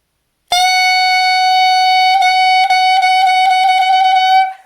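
Clarinet notes begin with tongued attacks and sustain as a bright, continuous tone for about four seconds, with several faint articulation breaks along the way, played alone and close up.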